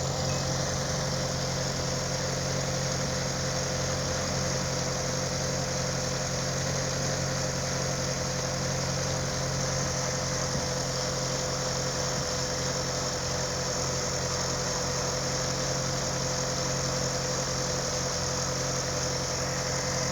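A Kadett GS engine idles steadily on ethanol through a Solex C40 ADDHE carburetor, a continuous even drone with a low rumble and faint vibration, close and unbroken for the whole stretch with no talk.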